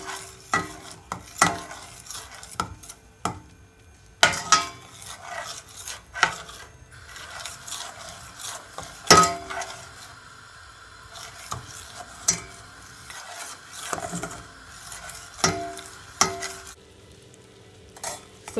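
Caramel sauce being stirred in a pan so it won't stick: irregular scraping and stirring strokes with faint sizzling, some sharp clinks against the pan, fairly close and alone.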